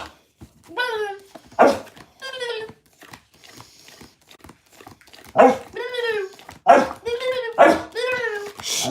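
A dog gives repeated short barks and whining yips in bursts, close and loud, with quiet pauses between them and a person's voice faintly in the background.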